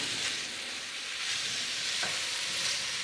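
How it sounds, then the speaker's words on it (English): Sausage and vegetables frying in a pan, a continuous close sizzle with the soft scrape of stirring through it, no speech. "gotta stir the food"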